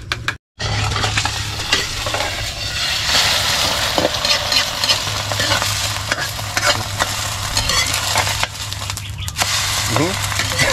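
Egg frying and tomato being sautéed in a pan, a steady close sizzle with stirring and occasional utensil scrapes, continuing under intermittent background voices.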